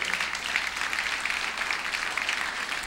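A youth-week church congregation applauds during a sermon, a continuous, even wash of many hands clapping at moderate distance throughout, with no voices over it.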